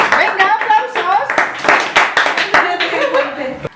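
Scattered audience clapping, quick uneven hand claps mixed with chuckles and voices talking over them, close and fairly loud.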